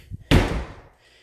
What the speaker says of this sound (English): This door is making noises.